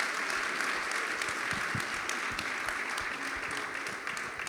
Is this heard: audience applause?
yes